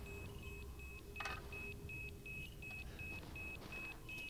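A placed mine in the Resident Evil Village video game beeps steadily, a regular series of about a dozen short, even electronic tones over a low rumbling game background, with one brief louder noise burst.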